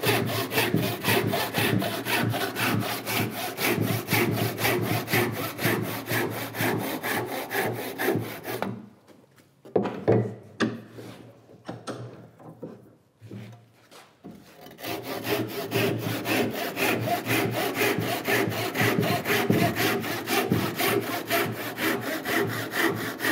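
Hand saw cutting through two pieces of wood at once at an angle on a workbench, steady rhythmic back-and-forth strokes, loud and close, with a brief pause in the middle before sawing resumes.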